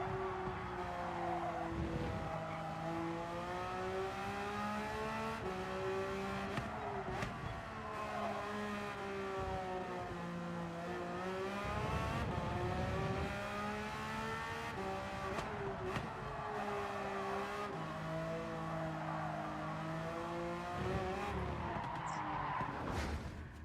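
A race car lapping the Fuji circuit in Gran Turismo 7, its engine note climbing through gears and dropping under braking, with tire squeal and skidding in the corners, steady and continuous.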